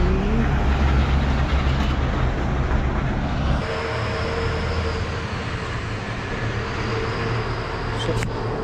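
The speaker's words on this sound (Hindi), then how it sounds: "यहाँ पे 2 केसेस आ गए हैं एंड बहुत सारे ट्रक जा रहे हैं। यहाँ पे व्हीकल्स की जो आवाजाही है बहुत बढ़ गई है।" Heavy trucks and other vehicles pass along a busy road in a steady, loud, close rumble that drops slightly partway through, with no gaps between them.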